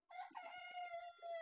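A desi hen in a hen house gives a drawn-out, nasal, crow-like call lasting over a second, close and alone.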